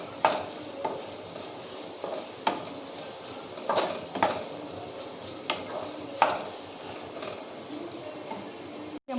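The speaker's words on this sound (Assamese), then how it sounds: "আৰু অকনমান 5 মিনিটৰ বাবে মই এখিনি ভাজিম" Meat cooking with banana stem and black pepper fries in a pan over a steady sizzle, broken by intermittent scraping and clattering stirs against the metal every second or so.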